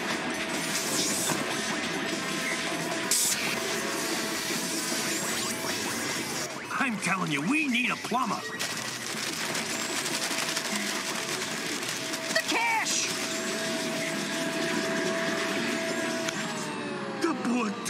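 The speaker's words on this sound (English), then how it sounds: "causing the vacuum to turn on." Cartoon vacuum cleaner switched on, giving a steady loud droning whir that runs throughout, with excited character voices talking over it.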